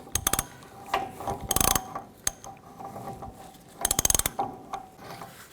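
A torque wrench ratchets a hub nut on a 1999–2007 Chevy Silverado 2500 during a rear parking brake shoe job, with several bursts of rapid clicking separated by pauses, close by and without talking.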